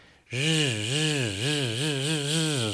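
A voice imitates a chainsaw, a loud buzzing drone that rises and falls in wavering pulses for a couple of seconds.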